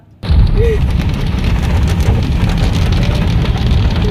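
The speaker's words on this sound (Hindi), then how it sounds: "देखिए कितनी तेज़ बारिश एकदम से आई है" A sudden, heavy downpour with strong wind sets in after a brief quiet moment, then continues as a loud, steady wash of rain.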